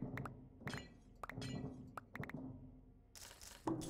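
Glass blocks breaking in modded Minecraft, a string of sharp clinking shatters in quick succession, fairly close, with brief pauses between breaks.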